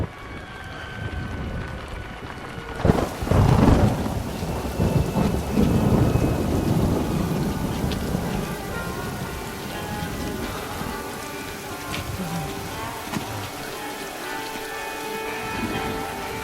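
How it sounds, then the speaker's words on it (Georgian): Heavy rain falls steadily, and a loud thunder crack with a long rumble breaks in early and then rolls away under the downpour, no voices. "უბრალოდ წვიმაა"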